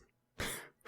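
A single short, sharp sneeze bursts out close to the microphone, followed by a brief breathy after-sound, all within a second of an otherwise quiet background.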